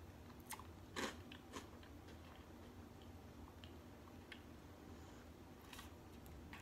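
Dry Jolly Rancher cereal, a blue piece eaten straight without milk, gives a few faint, close crunches and bites spread over a quiet background.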